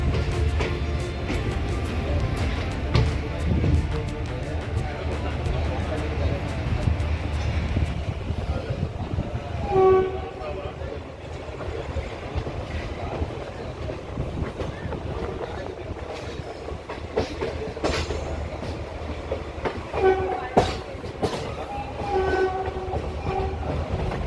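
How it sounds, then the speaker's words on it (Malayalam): Rajya Rani Express passenger train rolling slowly as it nears Bangalore city, a steady close rumble of wheels and carriage rattle throughout, with faint brief horn tones near the middle and end. "ട്രെയിൻ പതുക്കെയാണ് പോകുന്നത് കേട്ടോ."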